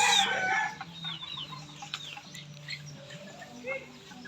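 Chickens cluck and a rooster crows in a busy farmyard around a nearly finished chicken coop, with scattered bird calls and low background hum, moderately distant.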